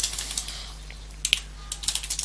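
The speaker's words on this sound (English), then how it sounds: "Yes, my typing skills are amazing." Fast bursts of typing on a computer keyboard, light clicky keystrokes coming in uneven clusters with short pauses, close and fairly quiet, with no voices.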